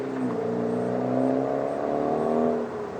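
A Ford Focus ST fitted with an aftermarket exhaust revs in a smooth, droning whir that builds and holds for a few seconds, then eases off near the end, with no talking.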